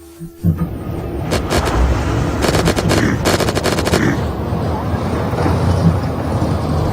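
Rapid automatic gunfire from a tank in the video game Unturned, loud and close in dense bursts, over a steady engine rumble that continues after the firing stops.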